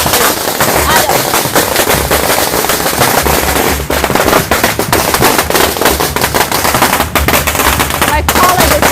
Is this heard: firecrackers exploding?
yes